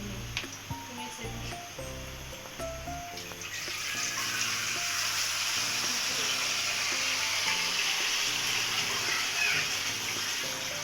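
Water poured into a hot pot of fried rice for khichuri sets off a steady sizzle and rushing hiss, preceded by tonal music and stirring sounds.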